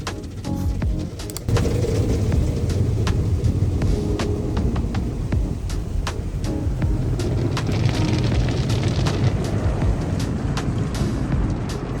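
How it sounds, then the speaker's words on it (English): An automatic car wash runs around a car, with a sudden rush of spraying water and a loud steady wash noise. Rapid thumps and brushing beats sound throughout from close by. "we went through the car wash, and it always amuses me to go through it"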